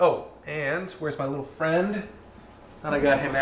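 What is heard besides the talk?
None of the usual background noises is heard.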